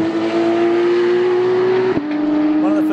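A Porsche 911 GT3 RS screams loudly on the Nürburgring Grand Prix circuit, its high engine note holding steady before a sharp gear change and renewed climb, with an in-car voice speaking over it.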